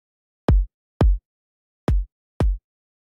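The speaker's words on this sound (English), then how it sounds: "So that extra layer of noise is giving the kick a whole lot of extra depth, which it just didn't have before." Four loud electronic kick drum hits in two pairs, each a deep thump with a short tail, with a vocoder noise layer switched in and out for added top-end texture; no other sound between hits.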